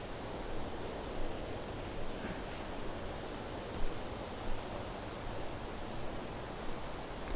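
Steady broadband roar of Sri Dit waterfall at Khao Kho in Phetchabun, a continuous rushing wash of falling water with faint soft surges, heard alone with no voices.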